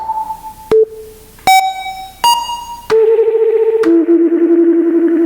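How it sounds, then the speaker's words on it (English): A series of electronic tom pad hits, each a sustained pure tone at a different pitch, struck one after another with the later ones ringing on and overlapping. "these toms on this electronic kit, they're not really toms, they're just kind of tones."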